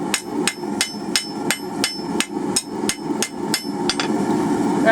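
Hand hammer striking hot steel on an anvil while forging a hanging hook, about a dozen sharp, loud ringing blows in an even rhythm, close by and with no talking.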